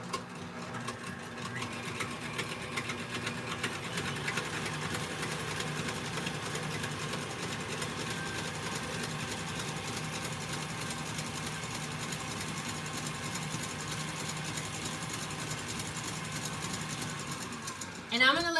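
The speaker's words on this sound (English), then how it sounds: "I'm gonna let you guys keep watching this so you can see how this turns into like a thick whipped cream" An electric mixer whirs steadily for a long stretch as it whips cream toward thick peaks, a constant motor buzz under faint indistinct speech, ending in a brief clatter.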